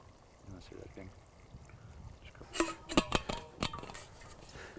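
Water poured from a container into a backpacking cooking pot holding beef stroganoff ingredients and a bouillon cube, a few short splashing bursts in the second half, close and moderately loud, with quiet background before.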